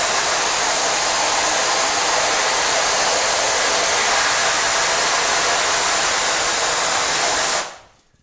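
A water hose sprays steadily onto a screen printing mesh to wash off emulsion, a loud, constant hissing rush that cuts off abruptly near the end.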